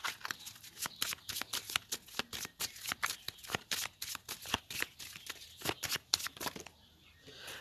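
Tarot cards shuffled by hand in a steady run of close, crisp riffling flicks and slaps, ending with a brief pause.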